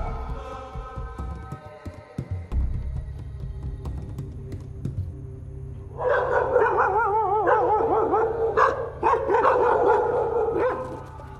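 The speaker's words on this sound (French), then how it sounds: "Deux chiens en profitent pour avoir leur part du butin." Two dogs in an Ethiopian town bark and growl while taking a share of food left by hyenas, with low rumbling and then loud, rapid overlapping barks close by that continue to the end.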